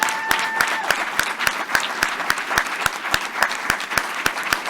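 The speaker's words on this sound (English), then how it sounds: "big round of applause" A graduation ceremony audience claps in a steady, rhythmic round of applause, loud and close, with sharp regular hand strikes over a continuous bed of clapping.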